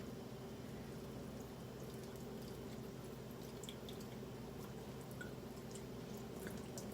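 Beet juice eco dye prints being rinsed under running water produce a steady faint splash and trickle with scattered soft drips, continuous and alone.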